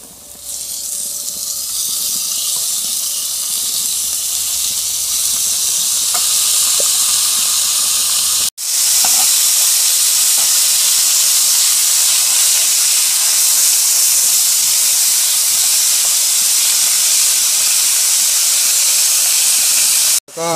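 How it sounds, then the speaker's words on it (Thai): Pork stir-fries in a hot pan for kimchi pork, a loud, dense, unbroken sizzling hiss that drops out for a moment partway through, then returns just as strong. "ใส่หมูลงไปผัดเลยนะครับ"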